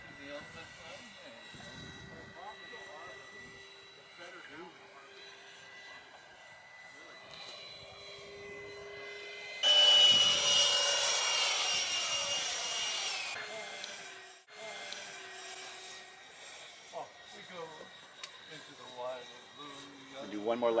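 A de Havilland Vampire electric ducted-fan model jet whines steadily overhead, swelling to a loud rushing pass midway before fading, with people talking throughout.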